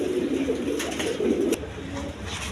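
A pair of high-flying Giribaz pigeons sitting on two eggs coo steadily and close by, their low, rolling calls running almost without pause through the whole stretch.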